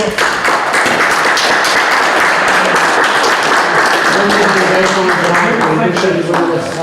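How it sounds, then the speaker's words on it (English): Audience at a joint county and city meeting gives a loud round of applause, continuous clapping for several seconds with some voices murmuring underneath. "let's give these gentlemen a round of applause"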